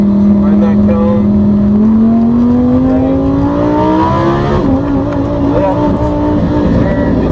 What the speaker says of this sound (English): Lamborghinis and Ferraris are out on the track right now.